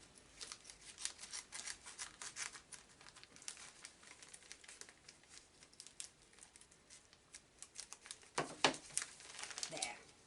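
Scissors or an X-Acto knife cutting a star stencil out of recycled box cardboard resting on an old box, giving quiet irregular snips and scratchy crinkles, closer and sharper near the end, with faint talking underneath.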